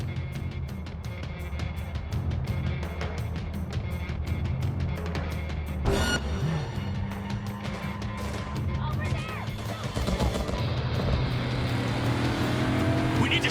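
A car engine revs hard during a chase in Cyberpunk 2077, a loud sustained roar that climbs in pitch with a sharp crack midway, mixed with game effects and bursts of talk.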